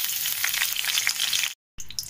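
Two bay leaves sizzling in hot mustard oil in a wok, a close, bright crackling hiss that drops out briefly before resuming.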